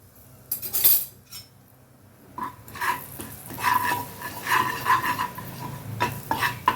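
Boiled potatoes with masala are stirred and sautéed in a pan, with repeated metallic spoon scrapes and clinks against the cookware over a faint sizzle, close and moderately loud without speech.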